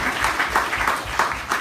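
Audience applause at a community charity event for a senior meal delivery service, a steady dense clapping that fills the whole short stretch at even loudness.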